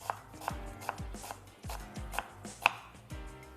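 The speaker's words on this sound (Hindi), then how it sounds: "यहाँ पर जो लहसुन है उसको भी हम क्या करेंगे, बारीक चॉप कर लेंगे" Garlic being finely chopped with a knife on a cutting board while preparing a creamy garlic soup, a quick run of crisp, close knocks in an uneven rhythm, moderately quiet with no talking.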